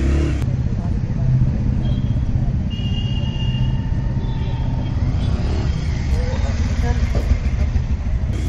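A Bajaj Pulsar 150 Twin Disc BS6 motorcycle engine hums steadily while being ridden, a continuous mid-pitched drone mixed with wind and road noise, with someone talking over it.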